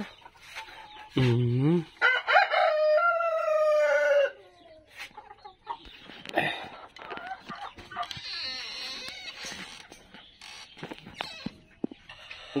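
Japanese Black-tail hens on a farm cluck and squawk loudly up close, with a long rising cackle, then keep clucking in bursts against background noise.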